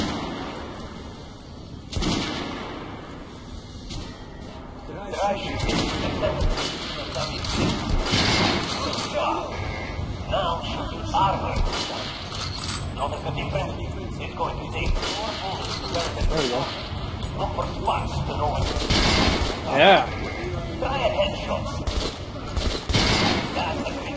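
Guns are test-fired at the shooting range in Metro: Last Light Redux, with repeated shots and bursts of gunfire going on steadily while a person talks over much of it.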